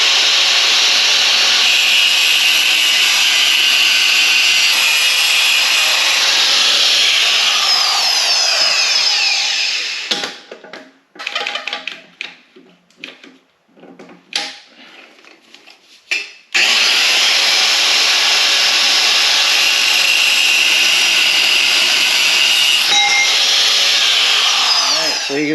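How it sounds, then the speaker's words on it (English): An angle grinder cuts steel roll cage tubing in a home garage: loud, harsh, continuous grinding for about ten seconds, a short quieter break with clatter, then another long sustained cut. "So now I'm moving on to the angle grinder."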